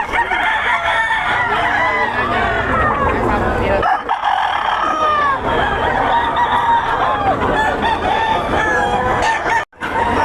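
Roosters and chickens carried by a handler crow and cluck loudly and densely, several birds overlapping close by in a constant noisy din, with people talking underneath.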